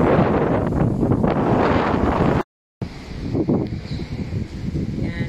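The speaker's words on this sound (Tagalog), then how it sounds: "Hangin na sarap dito, grabe." Steady wind buffets the microphone outdoors at a hillside housing site in Batangas, Philippines, with a loud low rumble, briefly cutting out, then continuing more gustily.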